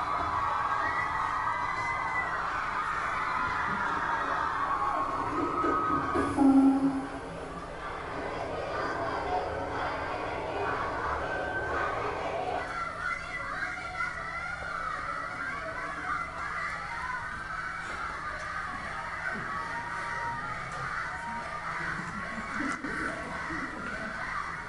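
Schoolgirls in Iran shout protest chants together at school. The crowd noise is loud and continuous, with a swell partway through, then goes on as a steady din of many voices.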